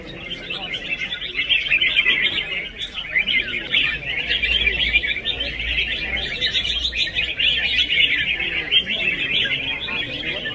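Red-whiskered bulbuls trade dense, shrill chirps and warbling phrases almost without pause at a bird-song contest. The calls are loud and close, with faint voices murmuring underneath.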